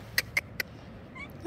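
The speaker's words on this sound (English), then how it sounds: "And this cat's following me." A cat at a hotel in Tunisia gives three short, sharp meows close by in quick succession at night, then a faint softer call follows against quiet background noise.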